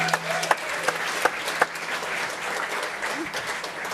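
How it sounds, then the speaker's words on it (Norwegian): An audience at a live talk show in Bergen breaks into applause, a dense steady wash of many hands clapping through the whole stretch, with a few sharper claps standing out near the start and faint voices mixed in. "En liten applaus for de"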